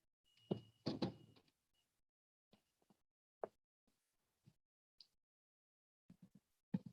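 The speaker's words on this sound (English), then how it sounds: "I'll just close the door because there's too much noise outside." An indoor door is shut during an online business talk, giving a cluster of rattling, thudding sounds at the start, then a few faint, sparse knocks and clicks in an otherwise quiet room.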